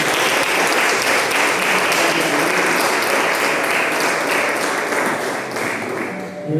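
A church congregation at a family worship service bursts into sustained, dense applause, loud and close, with many hands clapping at once and easing slightly toward the end.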